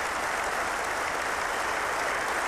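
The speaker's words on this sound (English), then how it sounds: "Generous applause." Spectators at a 1993 county cricket ground clap generously, a broad, unbroken wash of distant hand claps holding steady from start to finish, alone without voices.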